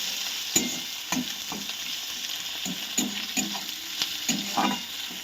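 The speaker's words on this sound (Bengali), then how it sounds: "পেঁয়াজটা একটু ভাজা ভাজা হোক।" Chopped onions sizzle in hot oil over tempered spices for a Bengali katla fish curry, a steady close frying hiss broken by regular scraping stirs of a spatula in the pan, with no talking.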